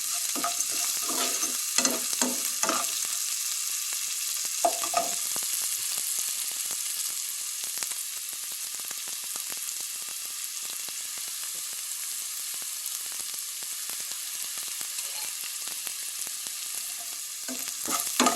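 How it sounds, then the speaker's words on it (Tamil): Onions sautéing in a pan for cabbage coconut poriyal, a steady close sizzle and frying hiss with intermittent stirring scrapes and clinks running throughout, no talking. "வெங்காயம் வந்து இதுக்கு ரொம்ப வதங்க தேவையில்லை கோஸ் பொரியலுக்கு மீடியம் அளவுக்கு வதங்கினா போதும்"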